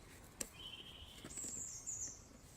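Faint bird calls ring out during an outdoor walk: a short thin whistle, then a couple of brief high chirps over quiet background hiss.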